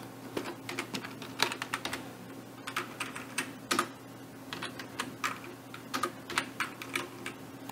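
Computer keyboard typing code, steady irregular keystrokes clicking close and fairly quiet, alone without speech for several seconds.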